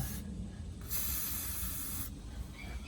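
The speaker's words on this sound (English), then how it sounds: "So let me spritz down all the intake valves again." Penetrating fluid sprayed onto the intake valves of a 1948 engine: a close, steady aerosol hiss runs for about a second, with fainter hissing before and after.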